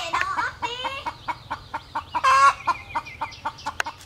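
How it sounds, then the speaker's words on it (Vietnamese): A mother hen sitting on a clutch of eggs in a nest clucks in a quick, close series of short calls, with a few louder squawking notes mixed in. "gà mẹ bắt đầu nhảy ra."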